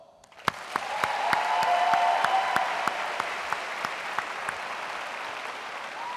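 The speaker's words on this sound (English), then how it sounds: "Let me hear a large applause." An audience at a university freshman induction ceremony breaks into sustained applause for the new class, a dense wash of clapping with a few sharp individual claps standing out near the front, fading slightly toward the end.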